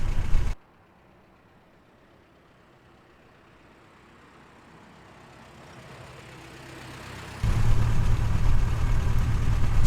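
A 1928 Chevrolet Touring car's engine rumbles steadily while driving, opening with a brief loud burst, settling into a low, even drone and swelling louder again near the end; no talking.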